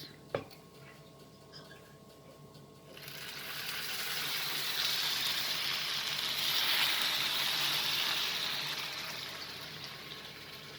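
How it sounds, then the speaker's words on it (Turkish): Syrup poured over hot, freshly fried künefe gives a sudden close sizzle that swells into a steady broadband hiss and holds loud for several seconds, preceded by a brief tap and quiet kitchen background. "Şöyle müthiş bir şekilde şerbetini veriyoruz."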